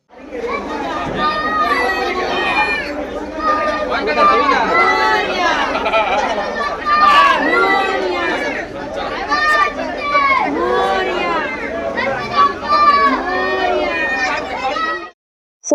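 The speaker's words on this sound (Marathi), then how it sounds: "एवढी सारी गर्दी झालेली आहे बघा इथे" A crowd waiting in line to collect Ganpati idols during the Ganesh festival, a dense close babble of many overlapping voices and chatter, continuous and lively throughout.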